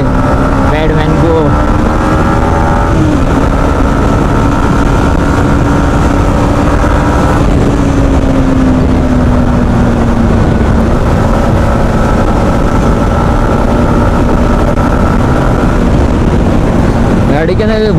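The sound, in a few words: motorcycle engine sound while riding on highway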